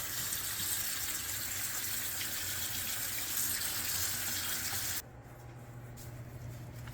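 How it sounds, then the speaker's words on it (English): Tap water runs steadily into a sink with a constant hissing splash, then the flow abruptly lessens and continues more quietly. "make sure you run the water so it doesn't blow up"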